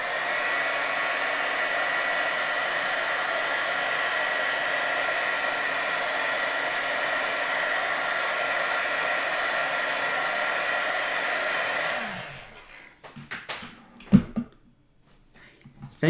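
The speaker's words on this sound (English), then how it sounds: "I'm just going to quickly grab my heat tool and heat set it." Heat tool blowing a steady, loud hot-air whoosh to set embossing powder on a handmade card, running continuously for about twelve seconds before switching off, followed by a few faint handling clicks and thumps.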